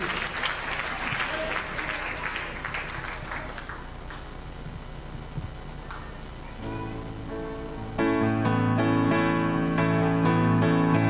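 Congregation clapping during a French-language worship service, a moderate burst of applause that thins out, followed by a church band's keyboard chords entering loudly near the end.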